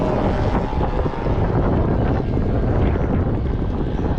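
A 200 mph RC P-51D Mustang model plane with a twin GP76 engine makes a gear-down flyby, a loud, steady engine roar heavily mixed with outdoor wind buffeting, with no talking.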